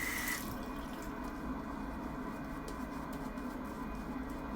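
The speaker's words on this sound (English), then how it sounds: "Somebody's turned some water on somewhere in the house." A steady wash of running water from a tap elsewhere in the house, constant and fairly quiet throughout.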